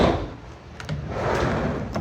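A minivan's sliding door on a 2005 Honda Odyssey, fitted with metal rollers, moves along its track with a loud, continuous grinding rumble and a few sharp clicks, close by.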